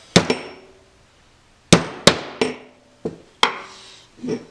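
Sharp hammer strikes drive a roll pin into a LAR Grizzly Mark I, landing as about seven separate metallic taps in irregular pairs and singles, close and crisp, with short decays between blows.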